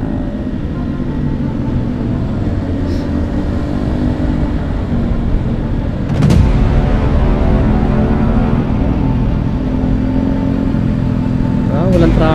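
A motorcycle rides through traffic on a road in Marikina, with a steady engine drone and broadband road noise, brief passing-vehicle swells around six and twelve seconds, and people talking over it.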